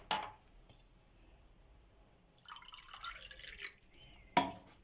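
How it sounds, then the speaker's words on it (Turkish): Grape vinegar is poured into glass pickle jars for a purple onion pickle, with faint trickling and dripping bursts and a couple of light glass clinks against a quiet background. "kavanozlarımızın hepsine yarım çay bardağı üzüm sirkesi koyuyoruz"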